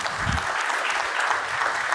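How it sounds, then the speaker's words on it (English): Audience applause after a Kubernetes conference talk in Hamburg, a dense wash of clapping from a crowd lasting two seconds at full strength. "A big round of applause for David."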